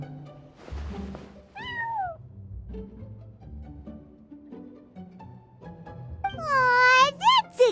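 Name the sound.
cat meowing in Genshin Impact video game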